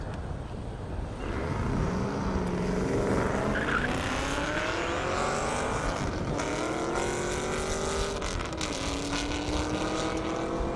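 A Camaro and a Chevrolet S10 drag race down an Indiana half-mile airport strip, their engines roaring loud and close for the whole run, pitch sweeping upward through the gears with sharp crackles near the end.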